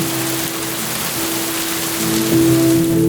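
Steady rain hiss pours from a Cradlewise smart crib's built-in sound machine, even and continuous with a faint low hum running through it, no voices.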